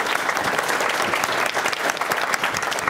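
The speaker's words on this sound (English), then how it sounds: "Let's give a huge round of applause for Megan and Jillian." An audience at a talk held at Google applauds two storytellers from The Moth, a loud, dense round of clapping sustained from start to finish.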